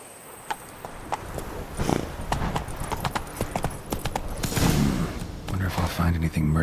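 Horse hooves clip-clop at a quick gallop in The Witcher 3: Blood and Wine, a steady run of close, crisp hoofbeats with occasional snorts and game ambience mixed in.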